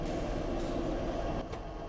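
Steady vacuum-cleaner-like drone from a direct reduction plant in Factorio, a dense continuous whoosh and low rumble at an even, moderately loud level with a slight dip near the end, no voices.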